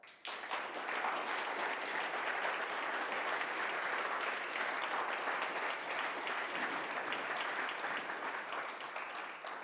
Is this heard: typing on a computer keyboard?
no